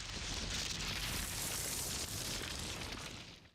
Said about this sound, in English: Lila, the explosions.